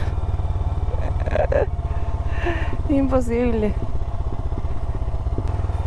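A motorcycle engine labors steadily close by as it climbs a steep road on the Serra do Rio do Rastro in Brazil, with a short spoken exclamation over the constant rumble.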